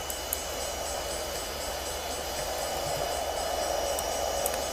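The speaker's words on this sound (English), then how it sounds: "Oh, there's a train." A diesel-powered train with its pantograph down and a short consist passes by in the Train Simulator 2016 video game, a steady rolling rumble with faint clicks, heard without talk.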